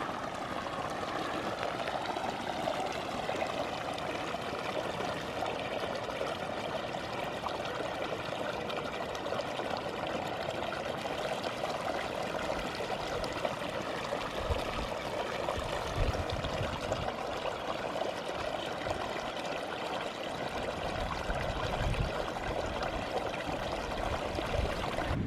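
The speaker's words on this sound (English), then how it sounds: "I can hear some water flowing." Water flows continuously in a stream, a steady rushing trickle heard nearby with no talking.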